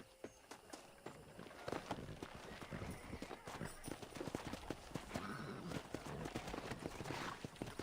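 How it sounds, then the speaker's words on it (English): Rapid clip-clop of horses trotting at a steady pace in the video game Red Dead Redemption, close by, with an occasional horse whinny mixed in. "Let's see if we can't wrangle some horses."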